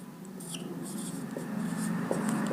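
Chalk or marker writing on a classroom board during a physics lesson, a steady scratchy scraping that runs continuously at moderate loudness with a couple of small taps, no talking over it.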